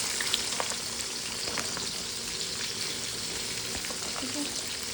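Finely sliced onions fry in hot oil with cinnamon pieces, making a steady, close, even sizzle that continues throughout.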